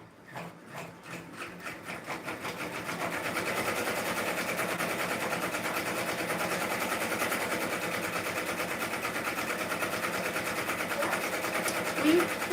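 A machine embroidery unit runs with a steady, rapid mechanical stitching rhythm that starts with separate thumps and settles into a continuous hum, while people talk.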